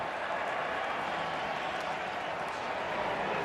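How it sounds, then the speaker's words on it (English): Baseball crowd at a Dodgers–Mets NLCS playoff game giving a sarcastic cheer, a steady broad wash of distant crowd noise and scattered clapping running through the whole stretch without a clear peak. "Sarcastic cheer from the crowd."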